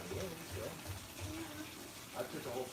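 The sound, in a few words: coolant draining from radiator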